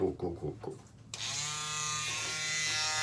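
After some brief speech, an electric shaver fitted with a small trimming adapter switches on and hums steadily up close, trimming sideburns in a home grooming routine.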